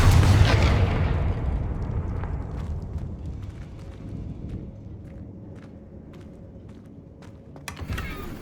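The Confringo fire spell in Hogwarts Legacy goes off as a loud opening blast that decays into a long rumbling tail, with scattered debris ticks and a small burst near the end.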